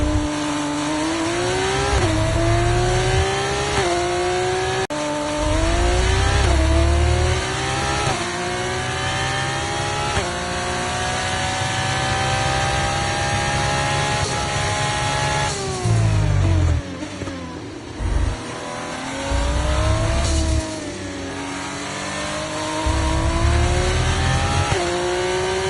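Formula 1 race car engine from the F1 24 video game, a sustained high-pitched wail rising and falling through gear shifts, with short lifts off the throttle near the end and a steady loud drone throughout.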